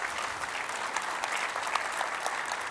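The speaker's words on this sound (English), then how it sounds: "Applause for the Minister of Latvia" Audience applause at a ministerial panel discussion, a steady dense wash of clapping from a sizable crowd, even and sustained throughout without a break.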